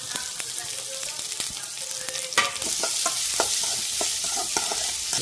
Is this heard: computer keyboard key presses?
no